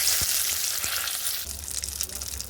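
Whole garam masala and bay leaves sizzle in hot oil in a pan where potatoes have just been fried, giving a steady close frying hiss with a couple of soft low knocks near the start.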